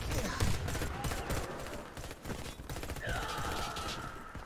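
Rapid bursts of gunfire from a video game battle, dense and sustained across the whole stretch, with a rising whine or tone entering near the end.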